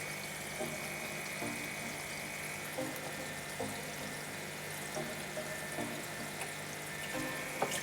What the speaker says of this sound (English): And there's the flow rate out of my reactor.